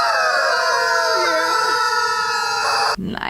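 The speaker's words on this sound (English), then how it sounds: "Put an army of squeaking chickens on your bumper." Squeaking rubber chicken toys mounted on a car bumper let out a loud, continuous, wavering squawk that fills the clip and cuts off abruptly near the end.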